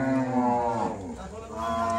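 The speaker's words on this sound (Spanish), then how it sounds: "estos bichos ya terminaron y ahorita ya van para afuera. Todas las vacas." Cattle mooing on a farm in El Salvador as the herd heads out after a veterinary workday, a loud, drawn-out low moo that falls, dips, then rises again, with no talk over it.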